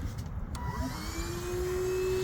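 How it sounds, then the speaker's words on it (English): A bee vacuum draws bees out of a hive in a car's wheel well in a parking lot, a steady droning whine that rises in pitch as power increases. "we're gonna start gently vacuuming these bees"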